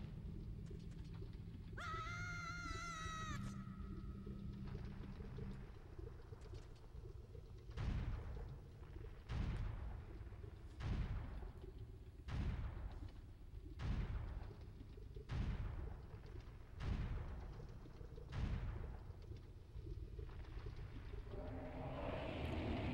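Bomb explosions in the video game The Legend of Zelda: Ocarina of Time, a string of about nine sharp booming blasts at roughly even intervals after a brief electronic chime, fairly faint overall with no talk.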